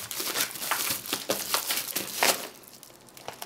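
Cardboard and plastic wrapping being crinkled and torn open on a knife box, a close, steady run of rustling and crumpling bursts with no voices.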